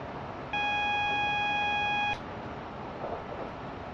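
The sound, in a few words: train cab warning alarm beeping, Train Simulator Classic video game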